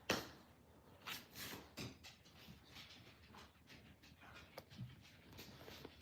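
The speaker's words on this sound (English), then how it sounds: "There's my dog." A pet dog named Wombat pants faintly nearby in a quiet room, with scattered small knocks and rustles around it.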